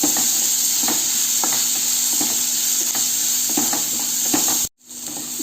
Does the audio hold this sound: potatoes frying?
yes